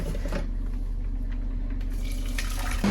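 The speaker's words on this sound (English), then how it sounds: "Now I'm just pouring myself a Trip drink." A Trip drink taken from the fridge is poured into a glass in a home kitchen while a steak dinner cooks, giving a steady close liquid stream that runs for about three seconds with no talk.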